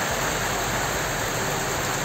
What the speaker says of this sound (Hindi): कितना जोर का बारिश आया है